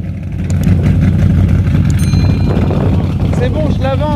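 A Chevrolet Chevelle SS sits idling with a deep, loud, steady rumble close by, a brief rev rising near the end while people talk over it.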